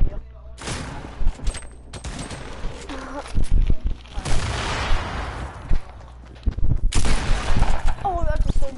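Gunfire in a PS4 shooter game, bursts of shots and impacts in loud, dense stretches with quieter gaps, heard close and mixed with game effects, while a player talks over parts of it.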